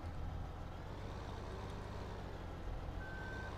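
Truck reversing beeps in the Farming Simulator 15 video game, a faint steady tone sounding late over a low engine rumble.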